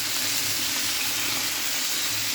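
Food fries in plenty of oil while being stirred, making a loud, steady sizzle and hiss that fills the whole short stretch without pause.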